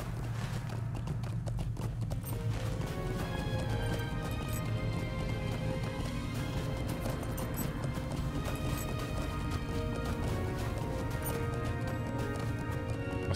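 Horse hooves clip-clopping in the Lord of the Rings Online video game, a steady, loud run of hoofbeats over layered game music and ambience, with occasional neighing and no talk.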